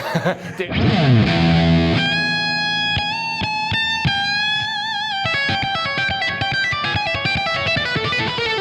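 An electric guitar played through a Dumble-style amp with the gain turned all the way up rings out in sustained, distorted notes and chords, then breaks into choppy, rhythmic strummed figures.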